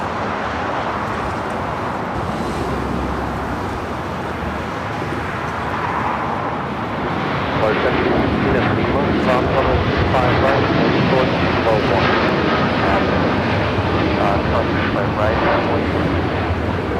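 An Air Tahiti Nui Boeing 787-9 Dreamliner rolls down runway 25 right at LAX, its engine roar building into a louder, rougher rumble partway through, with radio and human voices talking over it.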